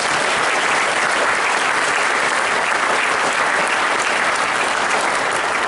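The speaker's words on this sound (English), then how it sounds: "So let's give them a round of applause." A crowd claps steadily in sustained, dense applause for a marching band at an indoor concert, staying even in loudness from start to finish.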